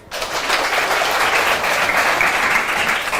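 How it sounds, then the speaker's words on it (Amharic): Steady applause from a classroom of children clapping for a student, loud and continuous for a few seconds with no talking. "አጨብጭቡላት"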